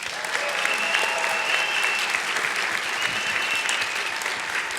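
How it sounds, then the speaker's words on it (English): A commencement audience at a winter graduation ceremony applauds faculty and staff, a dense, steady wash of clapping from a large crowd held at an even loudness throughout. "I ask for a round of applause for the faculty and staff who have worked tirelessly to prepare the next generation of leaders."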